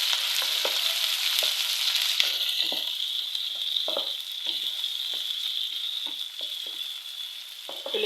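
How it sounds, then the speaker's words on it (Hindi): Onions frying in oil over a medium flame make a steady, close hiss, with soft scrapes and taps of a stirring utensil every second or so. "और अब इसी ऑयल में मैं प्याज डाल दूँगी, प्याज फ्राई कर लूँगी"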